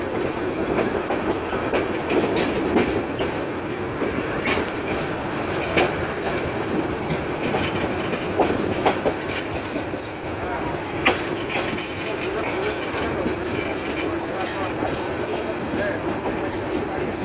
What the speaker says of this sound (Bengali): রমনাগর এক্সপ্রেস ট্রেনটি ভৈরব বাজার জংশনে প্রবেশ করেছে।